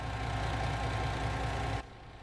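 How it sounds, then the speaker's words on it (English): A steady, dense farm vehicle engine drones in Farming Simulator 19, loud and continuous, then drops abruptly to a lower, quieter rumble near the end. "Nope, engine was running."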